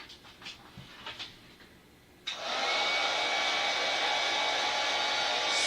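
A heat gun for embossing powder switches on abruptly after a few soft handling sounds and then blows with a loud, steady whooshing hiss, close by.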